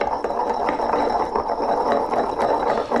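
Rhythmic grinding and scraping in a mortar and pestle as aioli ingredients are worked, a steady close-up rasping that repeats without pause.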